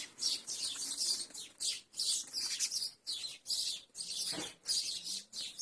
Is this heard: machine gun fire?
no